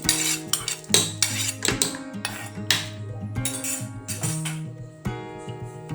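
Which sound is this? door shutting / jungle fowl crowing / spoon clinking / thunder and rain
spoon clinking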